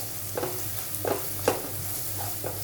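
Whole spices frying in hot oil for Malvani-style stuffed brinjal masala, a steady soft sizzle with several brief stirring scrapes spaced through it, close and moderately loud, no voices.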